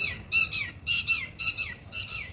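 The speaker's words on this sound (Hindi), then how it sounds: "कोयल। कोयल थी गाइस।" An Asian koel calls nearby in hot, sunny weather, a repeated series of five loud, clear rising notes in quick rhythm, with no talking.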